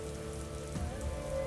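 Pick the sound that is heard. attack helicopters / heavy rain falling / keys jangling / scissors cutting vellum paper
heavy rain falling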